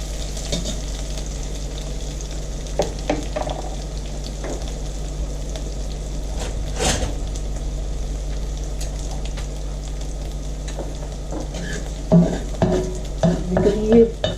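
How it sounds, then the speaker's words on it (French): Spice mixture toasting in hot oil in a wok, with a steady close sizzle and scattered stirring clicks, growing busier with louder scrapes near the end; no talking. "dans le fond de mon huile, dans le fond de mon wok, je vais mettre ce mélange et je vais le griller un petit peu."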